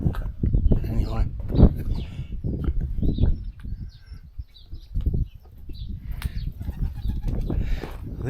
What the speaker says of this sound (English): I think the only people who live here now are pigeons.